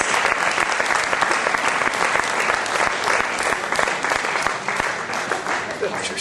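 Loud, sustained clapping from a church congregation during a confirmation service, a dense, even roar of hands that fills the whole stretch, with voices faintly mixed in underneath.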